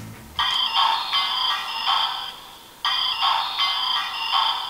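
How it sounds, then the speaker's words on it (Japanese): A DX Build Phone toy from Kamen Rider Build plays its electronic ringtone, a bright, loud synthesized ringing in repeating bursts, starting after a short click, pausing briefly, then ringing again with the same pattern. "あ、電話鳴ってんだこれ。"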